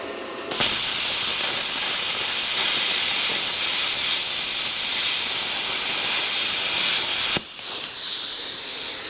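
Welding on a welding table while building a small square steel cap for a tractor ballast made from a 55-gallon drum, a loud, steady, close hiss that starts suddenly and runs about seven seconds before cutting off.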